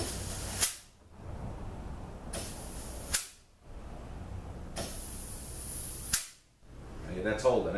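Compressed air blown through an automatic transmission clutch pack during a NAG1/722.6 overhaul: three sharp, loud bursts of hissing air, each lasting about a second and a half, separated by short silent gaps, with light handling noise at the end.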